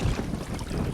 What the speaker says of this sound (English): it's so windy up here today.